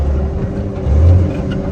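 A truck engine drones loudly through a double-clutch downshift, the low rumble swelling briefly as the revs are matched partway through, with no voices.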